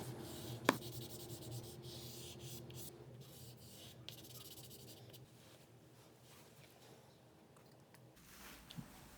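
Chalk scribbling across paper as warm colours are laid on for a glowing northern-lights sky, a faint, steady scratchy rubbing with one sharp tap near the start.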